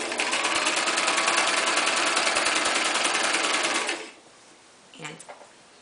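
Electric sewing machine stitching a kitchen towel, a fast steady whirring hum for about four seconds, then it stops and a short voice follows.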